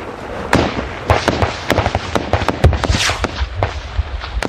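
Close-range gunfire during a Taliban ambush on Royal Marines in open ground in Afghanistan: rapid, irregular sharp cracks and bursts, some overlapping, loud and near against a rumbling background.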